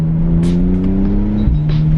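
A 2018 Porsche 911 Targa engine revs hard and close at high rpm, a loud steady growl that climbs and dips briefly as the throttle changes.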